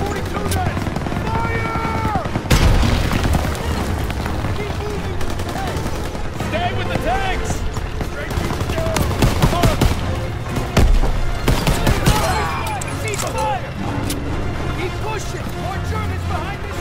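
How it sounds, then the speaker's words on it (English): MG-42 machine gun fire in the World War II shooter Call of Duty: WWII comes in loud bursts of rapid shots and booms, mixed with battlefield noise and shouted voices. "Target that MG-42 nest, right side! Fire!"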